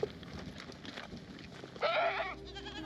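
Goats on a road in the Ninh Binh countryside of Vietnam give a single loud, close bleat near the end, over a steady outdoor background with scattered low rustling.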